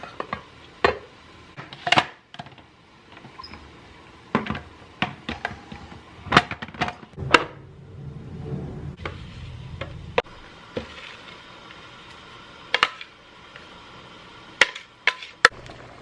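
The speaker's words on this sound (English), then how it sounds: "I have everything in there ready to be chopped up" Scotch bonnet pepper and scallion are chopped by hand, giving quiet, irregular knife taps on a board, single sharp chops with pauses and a brief soft scraping, recorded close up with no talking.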